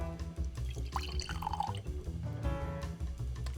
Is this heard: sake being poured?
yes